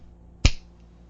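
A single sharp finger snap, close and crisp, standing alone in an otherwise quiet moment.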